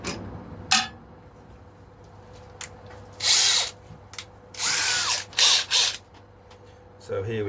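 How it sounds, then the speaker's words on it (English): A power drill bores through the neck of a late-'60s-style Stratocaster build in short bursts, several loud whirring runs separated by pauses, clicks and handling noises. "So now with the neck on, I'll get the same drill as I use in the drill press."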